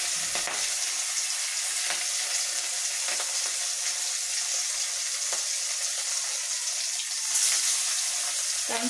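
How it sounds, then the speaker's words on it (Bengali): Small fish frying together in hot oil on a lowered flame, a dense, even hiss of bubbling oil that holds steady throughout, close by with no voices. "এভাবে ছোট মাছগুলো আমি ভেজে নেব।"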